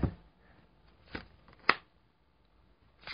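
A tarot card is drawn from the deck in a quiet room, with a few soft papery snaps and slides spaced apart against near silence.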